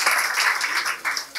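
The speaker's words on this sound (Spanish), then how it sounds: "Acá sí tenemos, están aplausos." Studio audience applause on a political humor program, a short burst of many hands clapping in close, uneven waves, loud and brief with a slight dip before picking up again.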